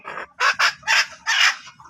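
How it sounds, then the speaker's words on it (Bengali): Hens being sold and weighed at home cluck and squawk in four or five loud, close bursts in quick succession. "এই হচ্ছে কিছু মুরগি আজকে বিক্রি হচ্ছে।"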